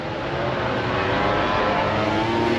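A motorcycle engine runs loudly and steadily at close range in a parking spot in Indonesia, a dense continuous roar holding throughout with no speech.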